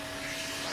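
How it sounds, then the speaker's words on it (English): A built-in vacuum cleaner in a family van runs with a steady, broadband whooshing hiss. It is moderately quiet and continuous, with no other sounds. "It's got a built-in vacuum cleaner."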